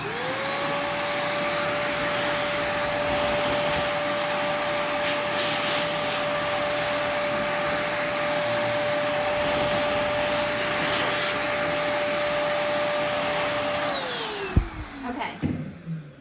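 A loud electric blower runs steadily for about fourteen seconds, clearing glitter off chalkboard art, then spins down and cuts off, followed by a few handling knocks.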